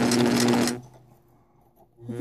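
A sewing machine stitching organza ruffles, a loud steady whir of rapid stitching that stops, leaving a quiet pause, and then starts up again.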